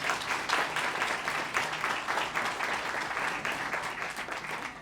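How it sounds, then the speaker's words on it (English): An audience at an evening talk event gives a steady round of applause, many hands clapping at moderate loudness for about five seconds with no speech over it. "Round of applause."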